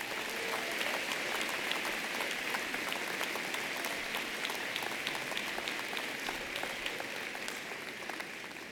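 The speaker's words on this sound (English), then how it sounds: "I think a round of applause would be appropriate for them as well." Sustained, even applause from a big commencement audience at a pharmacy college ceremony, dense clapping holding steady throughout and thinning only slightly at the close.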